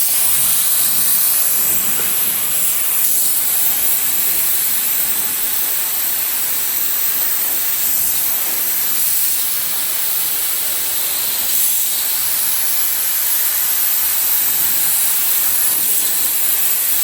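Steady spray-gun hiss as a coat of paint goes onto a 1987 Bronco in a cramped work space, a continuous loud airy rush lasting throughout with no talking.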